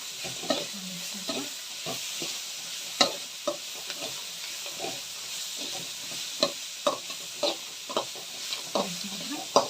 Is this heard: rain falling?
no